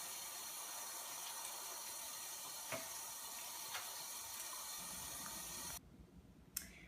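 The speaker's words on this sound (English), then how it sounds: "I sprayed it down with a little vinegar, and I'm just rinsing it, making sure it's clean" A kitchen tap runs steadily as arugula is rinsed, giving a continuous hiss with faint splashes. The flow stops abruptly near the end, leaving a quiet room and one small knock.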